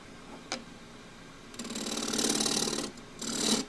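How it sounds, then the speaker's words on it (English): A half-inch spindle gouge trues the side of an osage orange bowl on a wood lathe, cutting in two sustained bursts of buzzing, chattering scrape after a few faint taps, fairly close. "Next thing is just to true the whole of the side up, to do with the 1/2-inch spindle gouge."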